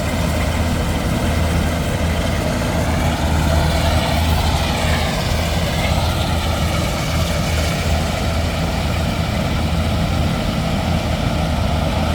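Tractor and rice harvester engines drone and rumble continuously in a rice field, loud and close, with a wavering mechanical whine rising and falling over the low idle.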